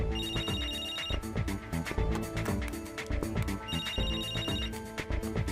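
A telephone rings indoors with a repeating electronic melodic tone in two bursts, loud and steady, with no speech.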